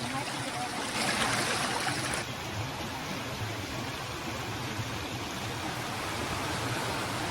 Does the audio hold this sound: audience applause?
no